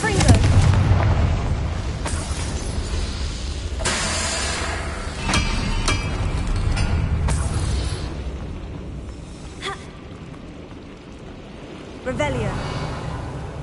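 In Hogwarts Legacy, the Confringo blasting spell lets off a series of loud booming explosions with a crackling, rumbling tail. A voice is heard over the blasts.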